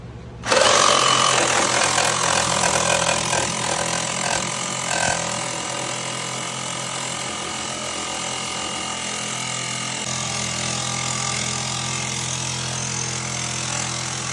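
A saw fitted with a short 6-inch Diablo blade for thick metal grinds steadily through a seized Subaru control arm bolt, a loud, continuous rasping whine with a ratcheting texture that holds close and unbroken from start to finish.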